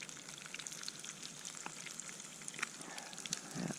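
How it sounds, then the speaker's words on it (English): Pieces of whiting and bream fish sizzle gently in a frying pan, a soft, steady crackle with scattered tiny pops, fairly quiet and close, with no talking. "Yeah, nice slow sizzle, that's what we want."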